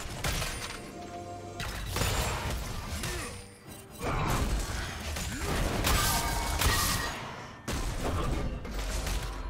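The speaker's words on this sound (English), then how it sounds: "Blue team's turret has been destroyed" A League of Legends turret collapses amid a busy fight, with loud smashing crashes and rapid burst-like impacts in several heavy waves separated by brief quieter gaps.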